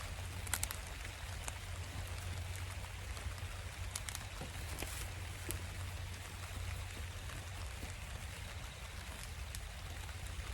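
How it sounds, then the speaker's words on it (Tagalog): Steady rain patters on a farm field in Japan, a soft continuous hiss with a low rumble underneath and occasional sharper drip sounds, with no voices. "Dahil umuulan na."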